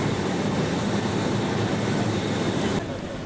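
Light aircraft engines roar steadily at an airport before departing on a rally from Tangier to Essaouira, a constant loud drone with no pauses.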